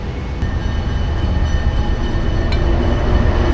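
A train passing right outside a restaurant in Peru, a loud continuous low rumble and clatter of rail cars that stays heavy throughout with faint high squeaks.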